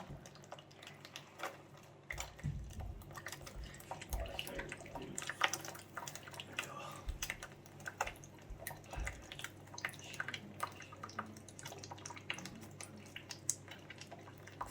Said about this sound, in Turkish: Korktuğu için gördüğünüz gibi akan suda banyo yapmaya çalışıyor.